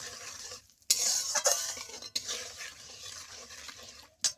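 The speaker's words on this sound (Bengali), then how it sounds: "চামচ হলুদ গুঁড়ো দিয়ে ভালো করে নাড়িয়ে নেব" A spoon stirs turmeric powder through a pan for a raw mango pickle, with scraping and clinking strokes over a faint sizzle, irregular and close.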